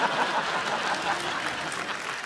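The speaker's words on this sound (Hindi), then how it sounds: "जोरदार तालियां।" A studio audience at a comedy talk show claps in a steady, dense burst of applause throughout.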